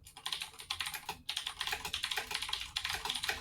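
Rapid, clattering typing on a mechanical computer keyboard, close and loud, with steady bursts of keystrokes and a brief pause near the one-second mark.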